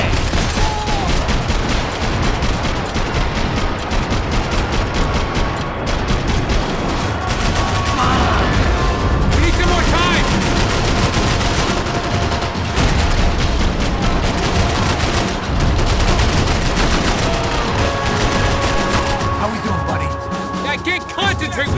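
Sustained gunfire with bullets whizzing past in a Max Payne 3 firefight, rapid bursts and heavy bangs crackling almost without a break, loud and close, with voices shouting beneath the shots.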